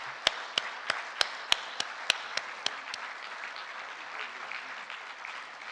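Scattered, sparse claps for a motivational speaker at a session, about a dozen distinct hand claps over three seconds that thin out, leaving low room noise.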